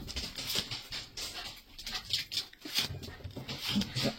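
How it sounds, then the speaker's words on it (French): Six dogs arrive and move about a room, with scattered paw patters, small scuffles and soft whimpers coming in irregular bursts at close range, and no talking. "Il va y avoir du bruit parce qu'il y a mes chiens qui débarquent"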